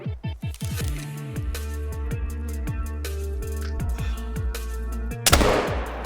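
A hunting rifle in theHunter, fired at a moose, gives one loud, sharp shot near the end, followed by a quick decay, over a steady bed of low ambient game tones.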